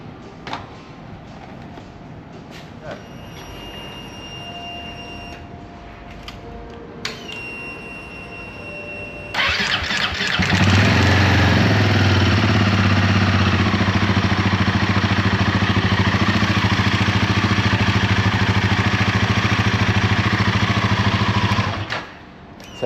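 A Royal Enfield Himalayan 450 fires up after a 10,000 km service. Workshop clatter and clicks come first, then the single-cylinder engine catches and runs loud and steady at close range for about twelve seconds before cutting off.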